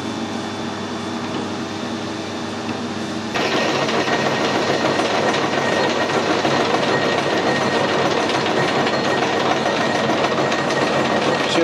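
A lathe cuts brass with a sharp high-speed steel tool, a loud steady mechanical whir and drone that thickens into a rougher, busier cutting noise partway through and continues without pause.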